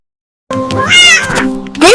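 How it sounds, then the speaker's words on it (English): A barn cat on a farm meows loudly, close up, in a drawn-out call with rising and falling pitch, followed by a second shorter, higher cry. "This is our barn cat."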